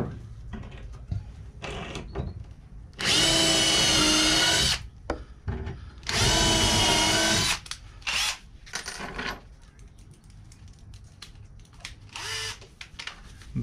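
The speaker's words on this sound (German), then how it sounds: "Jetzt machen wir erstmal hier die äußeren Bohrungen und danach setzen wir die in der Mitte." A cordless drill boring holes into the floor of a Fiat Ducato L5 H3 camper van conversion, two long loud whining bursts with shorter spurts between, close up and with no talking.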